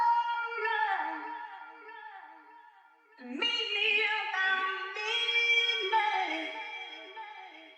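Chopped, processed vocals taken from a rock song sing sustained, layered tones with a cut near the middle, then resume fuller and brighter, with no talking over them.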